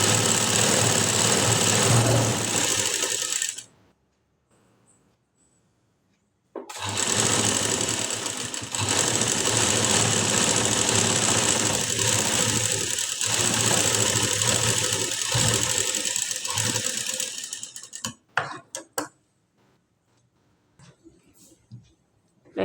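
A sewing machine stitching a blouse collar runs in a steady, fast whirring burst, stops for a few seconds, then runs again for a long stretch before falling quiet with a few small handling clicks.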